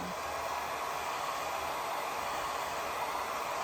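Hair dryer blowing over a wet watercolor wash on a rose painting, a steady close whooshing roar that stays even throughout the short stretch.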